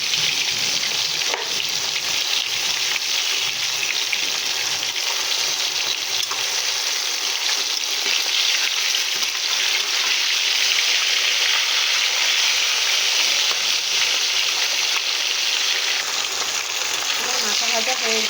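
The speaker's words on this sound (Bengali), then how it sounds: "ভেঙে আরও একটু লাল করে আমি ভেজে নেব" Broken pieces of fish head fry in hot oil, giving a loud, steady, continuous sizzle and crackle that fills the whole stretch, with no speech over it.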